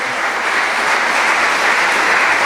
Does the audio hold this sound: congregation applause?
yes